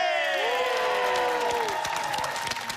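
Studio audience at a Russian television game show applauding and cheering, a dense wash of clapping with whoops while a bright musical fanfare plays over it.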